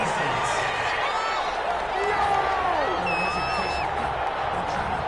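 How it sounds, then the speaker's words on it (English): Video game stadium crowd at an American football game jeers and grumbles in a steady, dense roar after a penalty flag on third down, with whistles rising above it and a commentator talking throughout. "Well, the crowd doesn't like that."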